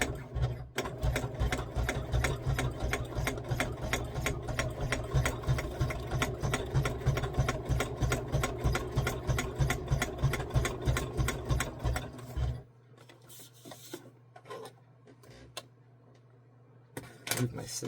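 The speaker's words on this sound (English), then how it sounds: "I'm pulling my sewing machine out a little closer to myself." A sewing machine stitching a dollar store file holder, running in a fast steady rhythm for about twelve seconds, close and loud, then stopping, with a low hum and a few light clicks left afterward.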